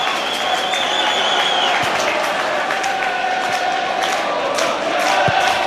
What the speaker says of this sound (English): The St Mirren crowd applaud the St Mirren pressing